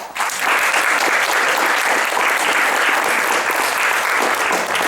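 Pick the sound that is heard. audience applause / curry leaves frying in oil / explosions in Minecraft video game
audience applause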